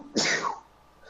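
One sharp, close sneeze with a noisy burst that fades within about half a second into quiet room tone.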